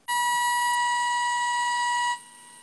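A phone gives one long, steady electronic beep lasting about two seconds during a live stream, loud and close, as if malfunctioning, then cuts off to faint background noise.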